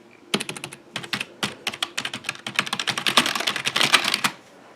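Fast typing on an HP K1500 full-size USB desktop keyboard, a dense run of crisp, loud key clicks close up that speeds into a busy burst before stopping.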